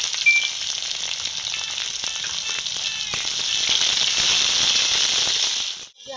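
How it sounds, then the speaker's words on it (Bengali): Chopped onion sizzles loudly in hot oil over dry red chillies, bay leaf and whole cumin, a steady dense crackle that swells midway and stops abruptly near the end. "পেঁয়াজটা আমি লাল লাল করে ভেজে নেব।"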